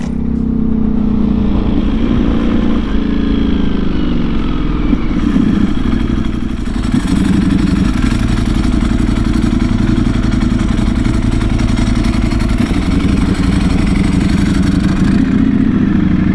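Ducati V4 SP motorcycle fitted with an SC Project full titanium exhaust, a loud deep engine drone with revving swells and mechanical clatter, heard close for a long stretch without talk.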